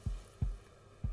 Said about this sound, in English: it's like a little heartbeat